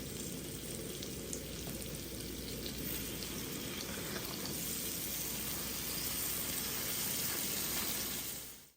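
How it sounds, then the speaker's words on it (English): Pork chops browning in a hot pan, a steady crackling sizzle of frying fat that holds an even level for several seconds with no talk over it. "We're going to brown our pork chops on each side for about 3 minutes"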